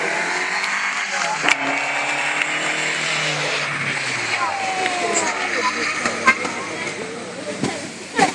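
Vintage car with an 8-litre four-cylinder engine at a classic car event in Le Touquet, revving and accelerating loudly past, with tire squeal and a crowd and announcer talking over it.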